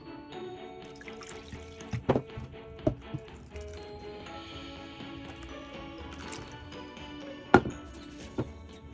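Coconut milk is poured through cheesecloth into a bowl as a soft, steady liquid trickle, broken by a few sharp clinks and knocks.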